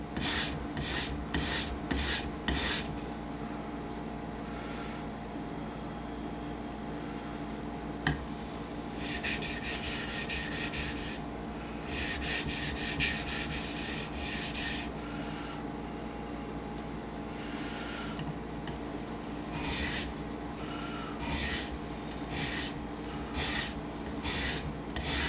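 A knife edge being convex sharpened to raise a burr gives repeated rasping strokes in rhythmic bursts, some quick and some longer and sustained, close and moderately loud over a steady background hum.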